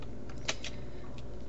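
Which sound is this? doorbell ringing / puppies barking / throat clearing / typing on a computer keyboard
typing on a computer keyboard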